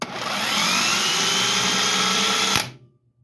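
A Harbor Freight impact gun runs in one continuous high whirring burst of a few seconds, loud and close, before stopping abruptly and spinning down into silence.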